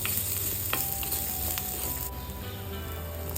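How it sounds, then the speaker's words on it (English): Diced onion sizzles and fries steadily in a pan while a spoon stirs it, with occasional scraping clicks over the constant crackle, close up and fairly quiet. "Add 1 big diced onion. Again guys, mix well."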